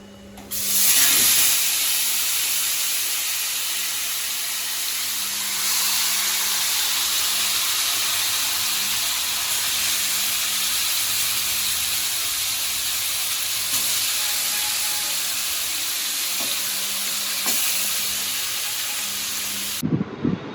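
Mutton frying in a pot, a steady close sizzle and hiss with occasional stirring scrapes, continuous for about twenty seconds.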